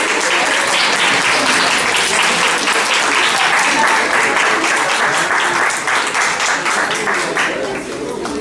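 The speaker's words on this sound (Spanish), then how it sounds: "vamos a aplaudir al jurado" Audience at a debate applauds the jury, sustained dense clapping from a crowd filling the room at steady loudness, tapering slightly at the end.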